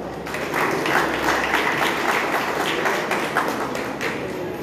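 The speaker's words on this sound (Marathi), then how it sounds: "या 6 स्पर्धकांसाठी एकदा जोरदार टाळ्या झाल्या पाहिजे" Applause for six winners at a chess tournament, a dense, steady round of clapping from a crowd, continuous and fairly loud across the whole stretch.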